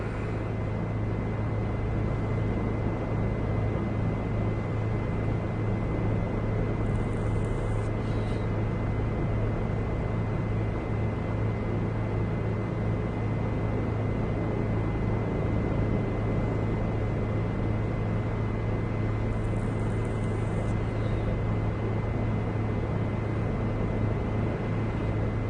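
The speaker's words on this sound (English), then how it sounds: "Natural movement of the helicopter in the wind." A helicopter flies steadily through wind in a flight simulator game, with a loud, constant droning engine and rotor hum and a steady low tone underneath that run unchanged for the whole stretch.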